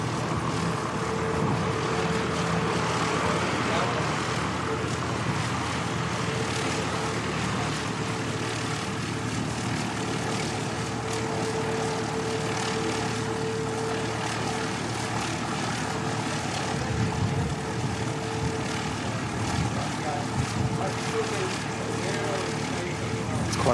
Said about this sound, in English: Quite a slow taxi.